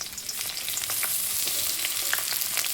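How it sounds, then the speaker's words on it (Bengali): Chopped onions sizzle steadily in plenty of well-heated oil while lotta (Bombay duck) fish is being cooked, a dense hiss with scattered pops and crackles running throughout. "নেওয়ার পর আমি এখানে পেঁয়াজ কুচি দিয়ে দেবো"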